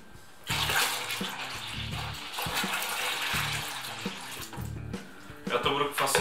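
Water pours in a steady, loud stream into a container for making orange wine, with a faint hum and a brief change in the flow near the end.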